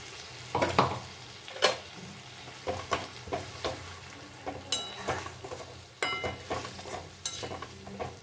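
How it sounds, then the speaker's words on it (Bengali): Tomato paste made from four medium tomatoes is stirred and fried in a pan: a soft, continuous sizzle broken by repeated scraping strokes and sharp metallic clinks of the utensil against the pan. "এটা কিন্তু খুব ভালো কষাবো না, জাস্ট একটুখানি নাড়িয়ে নেব"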